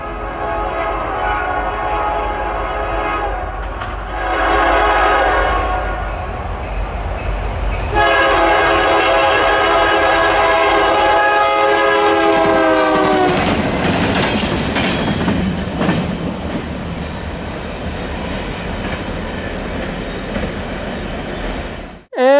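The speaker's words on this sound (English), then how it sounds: "being a CN local, it of course had amazing power, with an ex-Oakway SD60 leading with a killer horn" CN local freight train led by an ex-Oakway SD60 locomotive blasting its loud multi-tone horn in several long blows over rumbling engines and passing rail cars.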